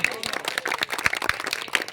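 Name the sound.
audience applause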